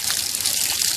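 Spring water from Pine Grove spring pours steadily out of a pipe in a constant, close, hissing gush with no talk over it.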